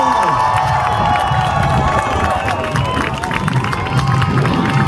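A large crowd at an outdoor march in Wellington cheers and claps continuously, a dense roar of voices and applause filling the space.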